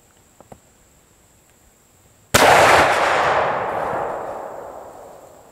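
A muzzleloader rifle fires once outdoors on a hot day, a sudden loud crack after a few seconds of near quiet, followed by a long rolling echo that slowly fades.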